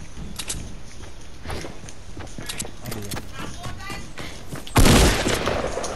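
Gunfire in the Fortnite video game, a few scattered shots early on, then a loud close burst near the end that rings out briefly, over a busy game background with a voice talking.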